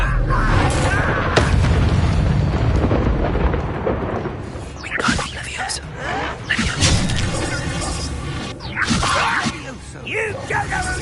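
Fire spell blast from Hogwarts Legacy gameplay, a loud booming roar with crashing impacts and rumbling bursts over several seconds, mixed with game sounds and a voice talking over it.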